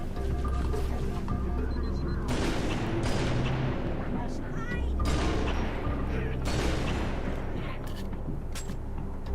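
Grenade blasts in the Halo: The Master Chief Collection PC game, several loud booming explosions with crackling debris tails, repeating at intervals over dense rumbling combat noise, with a voice talking over it.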